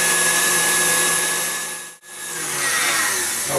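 Electric mixer whipping an egg and sugar mixture for sponge cake, a steady close whirring drone that briefly drops out near the middle before resuming, with no voices.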